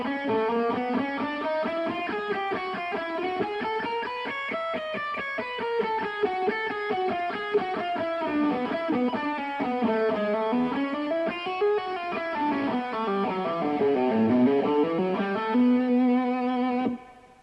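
A guitarist plays a slow, heavily distorted electric guitar riff with chromatic runs mixed with blues-scale licks and pull-offs, the notes weaving up and down steadily and loud without pause, ending on a held tone.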